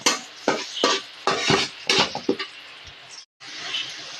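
Garlic and onion sautéing in a pan, with a series of sharp stirring and scraping strokes over a steady sizzle, a brief dropout near the end, then continuous frying hiss.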